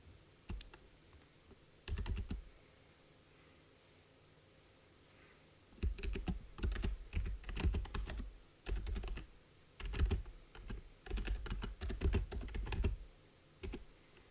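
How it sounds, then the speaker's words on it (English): Someone types C++ code on a computer keyboard, close and clear, in quick clattering bursts of keystrokes separated by short pauses. "and right now we can type"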